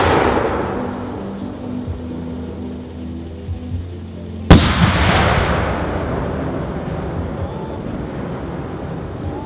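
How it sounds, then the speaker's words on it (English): An 8-inch pixie dust willow firework shell bursts with one sharp, loud boom, followed by a long crackling, fizzing tail in open air over a low background rumble. "Next up is the 8-inch pixie dust willow."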